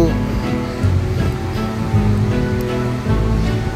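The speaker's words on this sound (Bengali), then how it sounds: "তো ঝর্নার জলটা আমি স্লো মোশনে একটু ক্যাপচার করেছিলাম" Waterfall water rushing in Purulia, a continuous broad wash of falling water close by, with voices speaking over it.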